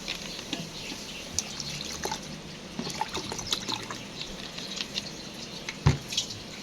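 Water trickles and splashes nearby in short irregular bursts as it is added to a vinegar mixture, with a sharper splash near the end; no voices.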